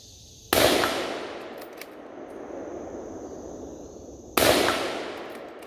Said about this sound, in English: Let's start out with a couple of rounds without a suppressor.